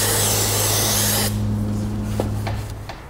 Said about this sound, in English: I'd spray a bit of carb cleaner, clean the rod up itself